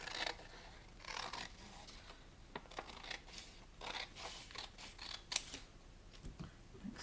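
Scissors snipping book-page paper for a junk journal pocket, a series of close, crisp cuts in an uneven rhythm with short pauses between strokes, no talking.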